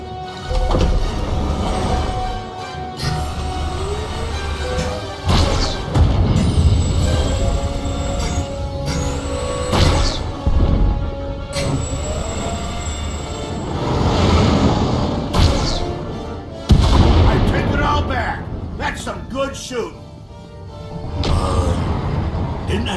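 Starship weapons fire in Star Wars: The Old Republic, a dense run of booming blasts and sharp metallic bursts repeating over rumbling engine and machinery noise, loud and close throughout.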